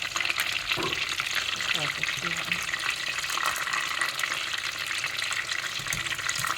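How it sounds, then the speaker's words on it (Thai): Thai spring rolls (po pia) deep-fry in hot oil, giving a dense, continuous crackling sizzle close by that stays loud throughout, with a faint voice briefly in the background. "มาทอดปอเปียจ้ะ"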